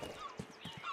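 Hooves clip-clop briefly as a horse is taken in the video game Rustler, a few soft, close thuds with light background game noise and no talk.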